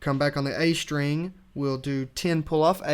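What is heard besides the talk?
No distinct noise like a dog, phone or traffic.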